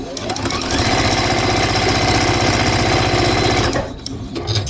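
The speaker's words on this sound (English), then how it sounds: "I'm going to sew these together in a way that when I cut it apart, or cut it loose, I guess, from the machine" A sewing machine stitches quilt block pieces together in one long, steady, rapid run that holds loud and near, then stops near the end as the fabric is freed from the machine.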